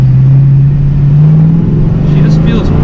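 A 1986 Mustang GT engine drones steadily as the car accelerates while driving, close and loud, with a faint rattle and a brief voice near the end.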